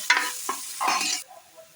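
Onions are stirred in hot oil for chicken curry, giving short scraping stirs followed by a brief burst of sizzling, close and fairly loud, then fading to quiet.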